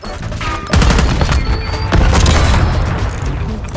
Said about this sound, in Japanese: スティッキーグレネード